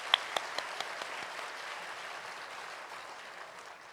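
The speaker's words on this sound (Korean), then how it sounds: "우리 박수로 환영하겠습니다." A church congregation claps in welcome during a Sunday worship service, starting with a few sharp distinct claps and then settling into softer, even applause that stays moderately distant.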